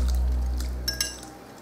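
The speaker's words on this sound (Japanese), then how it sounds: "ここに完全に冷めたエビとこの液を全部この中に入れてしまいます" Cooled shrimp and their liquid tipped into a bowl for a chilled shrimp cream pasta, a low rumble giving way to a few light clinks and splashes, close and brief.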